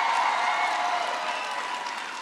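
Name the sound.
audience applause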